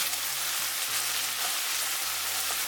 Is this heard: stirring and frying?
yes